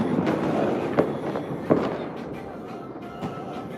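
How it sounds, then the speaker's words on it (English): Fireworks launch and burst over a city on New Year's Eve, heard from an overlook as a rolling rumble broken by a few sharp cracks. "They've been doing fireworks for the last 3 nights and pretty much launching them all night tonight."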